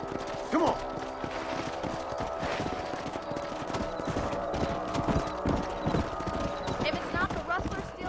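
Horse hooves clip-clopping at a steady gait with an occasional neigh in the Western video game Red Dead Redemption, under ongoing male dialogue and faint mechanical clatter.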